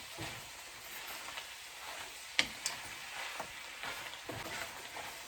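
Ground meat and frozen spinach frying in a pan, a soft, steady sizzle at close range, with a few sharp clicks and scrapes from stirring and no voices.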